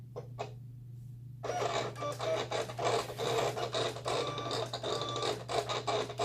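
A Cameo 4 cutting machine pulls vinyl from a roll with no cutting mat, giving a steady mechanical whirr and scraping feed noise that starts after a short quiet pause and runs continuously over a constant low hum.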